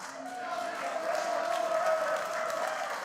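A packed crowd roars and cheers through a hard-hitting wrestling match in Richmond, B.C., a loud, sustained wall of voices that swells slightly midway without letup.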